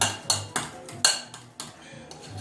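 Ricotta ravioli filling being mixed in a bowl, a utensil striking and scraping the sides in a series of sharp, close clinks and taps at an uneven rhythm, with no talking.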